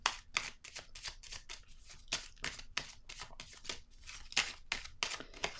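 Tarot cards being shuffled and drawn, a rapid run of crisp, close flicks and riffles in an irregular rhythm, each snap sharp and distinct, with no voice.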